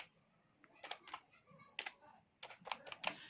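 Typing a vehicle registration number on a computer keyboard: quick clusters of crisp key clicks in short irregular bursts with brief pauses, close and fairly quiet, no voices.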